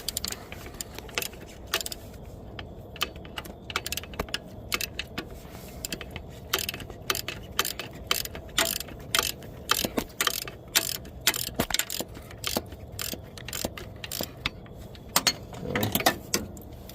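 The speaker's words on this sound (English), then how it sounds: "we're gonna torque in this bottom bolt." A torque wrench ratchets in short, repeated clicks as a bottom bolt is tightened during a Toyota 1.8L alternator replacement, with light metallic clatter between the steady pulls.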